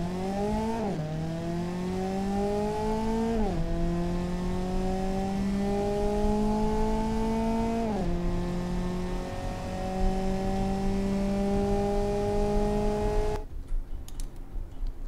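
A car in the Automation game accelerates flat out from 0 to 100, its engine rising steadily in pitch through three quick upshifts before cutting off abruptly near the end.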